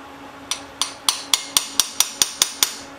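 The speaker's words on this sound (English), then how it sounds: "Let me get the magic hammer, see if that'll work" A hammer strikes a Craftsman wrench ten times in an even rhythm, each a sharp, ringing metallic clank, close and fairly loud, with no talking.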